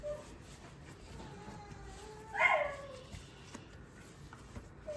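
A dog confined in a crate gives a short whining bark in the background of a kitchen where bread-bun dough is being made; faint, one brief outburst amid quiet room noise.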